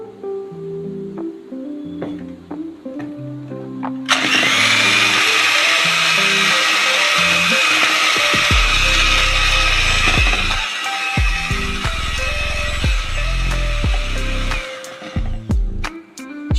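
An electric beater whips a sugar mixture, switching on after a few quiet seconds of faint background tones, then roaring with a loud, steady high whir for about ten seconds before it is switched off.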